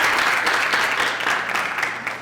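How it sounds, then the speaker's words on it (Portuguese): Loud, close applause from a school audience at a dance festival, dense clapping that is strongest at the start and eases a little toward the end, with no speech over it. "Uma salva de palmas para o Lucas Rafael."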